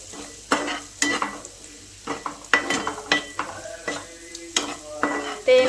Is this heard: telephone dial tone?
no